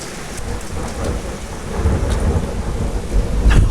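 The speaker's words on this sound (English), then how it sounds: "There is a huge storm outside." A Minecraft thunderstorm rumbles with heavy rain hissing steadily throughout, thunder swelling low and loud toward the end, no voices.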